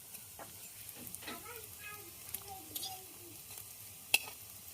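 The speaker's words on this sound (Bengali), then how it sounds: "এখন আর একবার ওই পাশটা উল্টাই দেব, যেন বড়াটা একটু মচমচে হয়" Bengali lentil fritters (dal bora) fry in hot oil in a pan and get turned over, giving a low steady sizzle with faint scraping and a single sharp tick near the end, plus a soft background voice.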